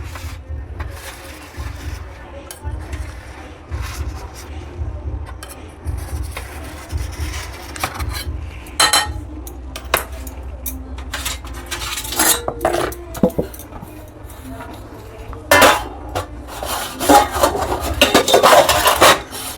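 A knife scrapes and rasps around the edges of a cooked egg in a pan, repeated metallic scratches and clinks that grow busier and louder toward the end, with no voices.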